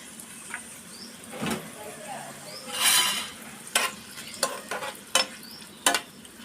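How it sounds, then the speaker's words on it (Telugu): Tomato pieces and green chillies frying in oil in a pan, a soft steady sizzle broken by stirring scrapes and several sharp clinks of a utensil against the pan. "టమాటా ముక్కలు వేసాను దీనిలో కొంచెం సాల్ట్ వేస్తే త్వరగా మగ్గిపోతాయి టమాటాలు ఆయిల్ కూడా వేసుకున్నామండి"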